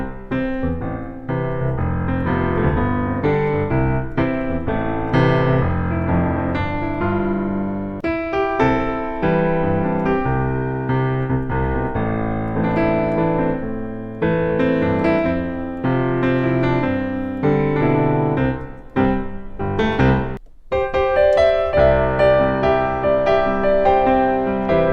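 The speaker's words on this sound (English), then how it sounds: "we've jumped into a time machine and gone back to what's known as the 50s progression, the doo-wop progression" Piano plays the 1950s doo-wop chord progression, tonic to minor sixth to fourth to fifth, with full, sustained chords and moving melody at a steady moderate level, cycling through the changes with a brief pause near the end.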